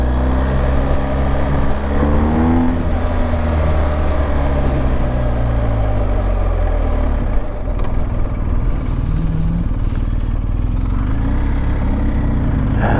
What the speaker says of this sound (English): The wind's starting to kick up.